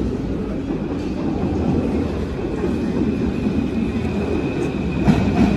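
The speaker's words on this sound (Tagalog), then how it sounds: "Ayan na ang ating train" Train pulling into a Paris station, a steady loud rumble of wheels and carriages with faint clickety-clack, continuous throughout with no speech.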